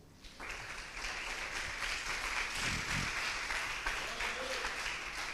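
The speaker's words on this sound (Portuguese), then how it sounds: "Aplauda o Senhor." A congregation applauds during a church sermon, a dense wash of clapping that rises after a brief lull and holds steady at moderate level, with a few low thumps partway through.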